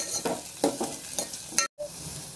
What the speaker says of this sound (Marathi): मिरच्या सुद्धा आहे ना आपण तेलामध्ये चांगल्या फ्राय करून घेऊया।